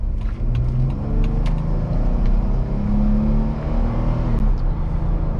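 A 2016–2017 Jeep Wrangler Sport two-door JK engine accelerating on a test drive, a steady close rumble whose pitch rises and falls as the automatic transmission holds and shifts, with continuous road noise and no voices.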